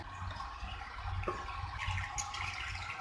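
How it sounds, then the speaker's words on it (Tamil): Water is poured into a pan of simmering Kashmiri dum aloo, a soft steady splashing and trickling at close range with no talking. "இன்னும் கொஞ்சம் தண்ணி ஆட் பண்ணிக்கலாம் இதுல"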